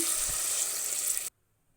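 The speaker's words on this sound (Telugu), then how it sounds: "నీళ్ళు వేస్తున్నాము." Water pours into a cooking pot for a ganji porridge, a bright rushing hiss lasting just over a second before stopping abruptly into near silence.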